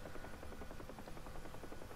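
Helicopter rotor thump in the DCS flight game, a continuous, fast, even chop over a buzzing engine drone, steady and fairly close, with no talking.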